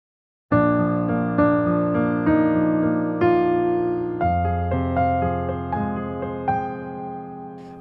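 Solo piano plays the close of the first half of a piece in a cover arrangement, sustained chords struck one after another in a slow steady rhythm, ringing close and clear with no voice.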